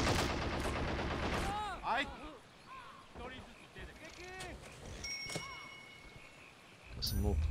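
Gunfire and machine guns in the real-time strategy game Men of War: Assault Squad 2, set in a New Guinea battle, as rapid bursts and distant rattling shots with scattered effects, under a voice.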